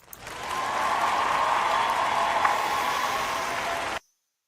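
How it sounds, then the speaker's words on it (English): A virtual applause sound effect plays, a dense wash of crowd clapping that swells in quickly, holds steady and loud for about four seconds, then cuts off abruptly into silence. "Let me get the virtual clap out"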